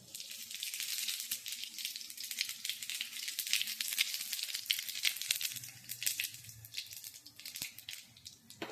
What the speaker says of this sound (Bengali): কড়াতে তেল দিয়ে দিয়েছি, তেজপাতা দিচ্ছি